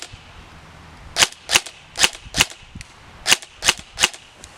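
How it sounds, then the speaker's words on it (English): KWA Kr12 airsoft gun fired in semi-auto: eight sharp, close cracks in uneven pairs and singles, each a crisp snap against a quiet background. "So let's shoot it in semi-auto and then go full auto."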